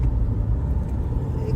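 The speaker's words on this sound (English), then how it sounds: "Look at the traffic." Steady road traffic on a highway approaching Bangalore, a continuous low rumble of cars and heavier vehicles with no single vehicle standing out, close and fairly loud.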